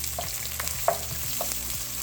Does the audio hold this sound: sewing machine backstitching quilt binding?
no